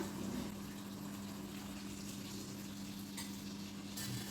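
Pasta tipped into a pan of oil-glossed cooked tomatoes, red chilli and garlic, giving a steady close sizzle and frying hiss with a low hum beneath and a couple of soft rustling bursts.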